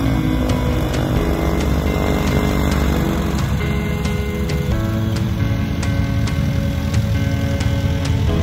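A Just Aircraft SuperSTOL XL light aircraft's 180-horsepower Titan engine drones steadily and loudly at close range, an even propeller hum with no breaks.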